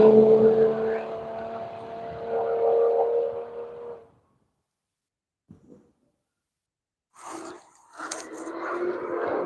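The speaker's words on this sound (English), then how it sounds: "And here comes the one-lap Supra." A Toyota Supra race car passes on the Road Atlanta circuit, its loud engine droning and fading away, followed by near silence before another car's engine rises again.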